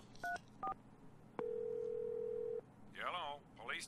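Telephone in the video game Clock Tower being dialed: two short tone beeps, then a steady sustained tone for over a second, followed by garbled voice-like chatter.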